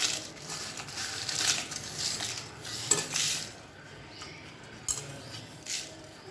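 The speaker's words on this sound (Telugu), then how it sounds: "స్లో ఫ్లేమ్లో మంచిగా ఫ్రై అయ్యే వరకు ఫ్రై చేయాలి" Dried red chilies fry slowly in a spoonful of oil in a pan over a low flame, making a steady soft sizzle broken by occasional sharp clinks of a spatula against the metal.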